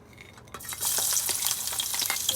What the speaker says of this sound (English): we pour a little bit of oil on the frying pan